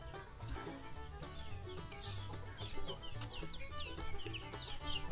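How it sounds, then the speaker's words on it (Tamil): Many large chickens cluck and chirp steadily inside a farm shed, with a constant low hum underneath. "பெரிய கோழிங்களாக விட்ருக்குது"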